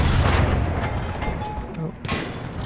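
Tank guns fire during a Battlefield 1 campaign battle: heavy booming blasts and rumbling explosions in a dense, loud wash of combat noise, with a sharp crack near the end.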